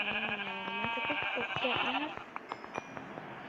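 Sheep bleating in the Minecraft video game: several clear, wavering bleats in close succession, fairly loud and near, with a voice talking over them toward the end.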